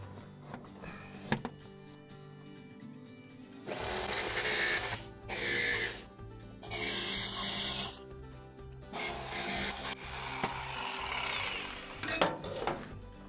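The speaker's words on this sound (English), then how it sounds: "Now I need to saw this out of here." Hand sawing through a panel to cut the hour meter opening on a Case 580C backhoe, quiet bursts of rasping strokes in several separate runs with short pauses between them.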